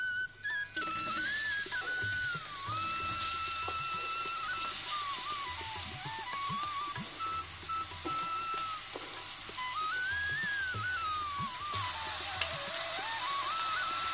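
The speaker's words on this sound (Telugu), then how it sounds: "ఇప్పుడు ఉల్లిపాయలు, పచ్చిమిరపకాయలు వేసుకుందాము." Onions and green chillies sizzle in hot oil in a pan, a steady close frying hiss running throughout with a faint whistle-like tone above it and occasional stirring.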